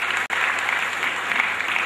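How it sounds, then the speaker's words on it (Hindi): An audience at a student awards event applauds, a dense, steady wash of clapping with a brief dropout just after the start and no voices over it. "शिरीष जमील, जोरदार तालियां"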